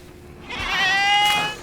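A single goat bleat in a dinosaur video game, a wavering drawn-out cry of about a second rising out of quiet ambience, fairly close and alone.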